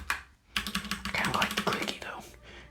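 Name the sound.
typing on clicky mechanical keyboard switches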